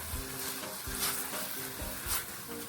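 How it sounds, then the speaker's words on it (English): Meat browning together with vegetables, including bell pepper, for a sweet and sour cabbage dish, giving a steady close sizzle from the pan with a few soft stirring scrapes and no talk. "I'm going to cook all this together and get the meat brown"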